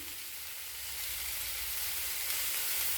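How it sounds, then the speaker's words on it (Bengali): Chopped coconut, cashews and garlic paste frying and being stirred in a pan for spicy vegetable masoor dal, a steady close sizzle with faint scraping, rising slightly after the first second, with no talking. "এরপর দিয়ে দেবো নারকেলের কুচি, এরপর দেব কাজু বাদাম, নাড়াচাড়া করে নেব"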